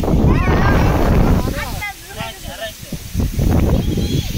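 Strong gusting wind just before a heavy rainstorm outdoors, roaring loudly and steadily with brief lulls, while people talk over it.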